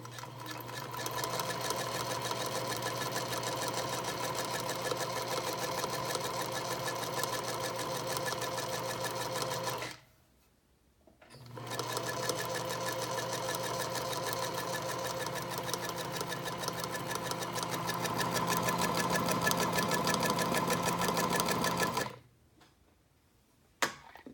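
A domestic sewing machine stitching with its presser foot down, a steady close mechanical whir and rapid needle patter running in two long bursts with a short pause between them and a click at the end.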